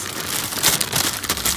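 Steady, heavy rain falls in a dense, continuous hiss, with slight surges in intensity and no voices.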